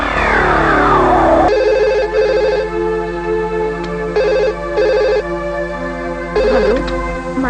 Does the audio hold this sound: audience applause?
no